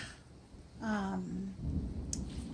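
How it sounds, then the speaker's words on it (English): Thunderstorm outside with rain and a low rumble of thunder, a deep roll swelling midway and a steady wash of rain, moderately loud with no voices. "the most awesome, beautiful lightning and thunderstorm going on here"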